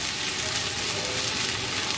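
Poha tipped into a hot frying pan, a dense steady sizzle filling the moment, with faint stirring scrapes underneath and no talk.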